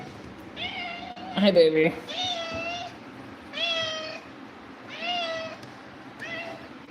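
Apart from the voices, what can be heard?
cats meowing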